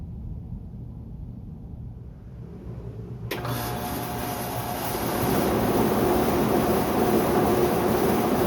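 A 2003 Ruud Achiever 90 Plus HVAC system starts up: a low steady rumble abruptly gains a broadband whoosh partway through, swelling into a louder, continuous blowing roar.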